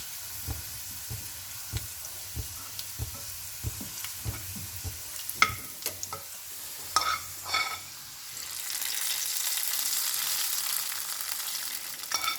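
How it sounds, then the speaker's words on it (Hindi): Chopped onion sizzles in hot oil as a tadka for vegetarian haleem khichdi, with spoon taps and stirring scrapes early on, then a steady, close frying hiss that swells toward the end. "आप इसको तड़का जो है, बघार जो है वो प्याज का लगा सकते हैं।"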